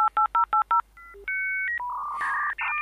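Dial-up internet modem connecting: a quick run of loud dialing beeps, then a sequence of steady handshake tones and a hissing screech burst, with no one speaking.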